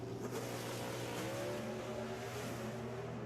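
An NHRA drag racing car roars at the finish line, a loud continuous engine drone with a rising whine as it passes, steady and fairly close, with no talking.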